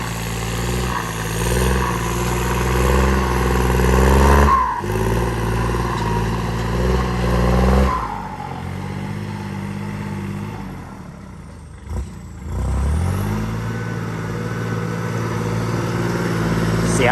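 A car engine fitted with an L4018 turbo revs loudly several times, then drops off the throttle. A short, sharp blow-off burst follows before the engine builds back up, all close and without talk.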